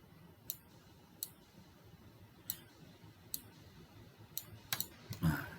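Computer mouse clicking during editing work in SketchUp, with sharp single clicks spaced about a second apart, then a quick cluster of clicks near the end, close and crisp over faint room hiss.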